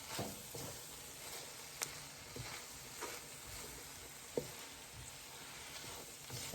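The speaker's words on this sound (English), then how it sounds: "Gonna simmer for about maybe 2 or 3 more minutes." Chicken pot pie filling seasoned with adobo simmers and sizzles in a pan as a steady, soft crackle, broken by a couple of sharp little pops and faint stirring scrapes.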